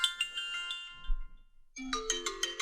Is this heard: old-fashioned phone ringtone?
yes